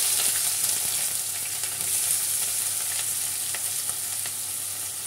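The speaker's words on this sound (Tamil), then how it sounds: "சோம்பெல்லாம் நல்லா பொரிஞ்சிடுச்சு. இப்போ வந்து வெங்காயத்தை சேர்த்துக்கலாம்." Onions hit hot oil with fennel seeds and fry in a loud, dense, continuous sizzle that stays close and even, with faint crackles through it.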